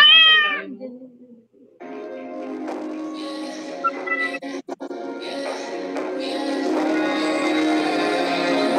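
A cat meows in a short rising-falling call at the start, fairly close, before people begin talking over a steady background for the rest.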